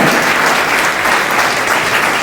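Dense, continuous applause from an audience at a Women's Day programme at a service centre in Burhanpur, loud and close with no gaps throughout.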